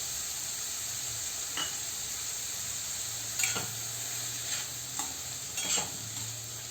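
Cowpea greens being sautéed with peanut powder in a pan, a steady background hiss with a few brief stirring scrapes spaced through it, fairly even and close.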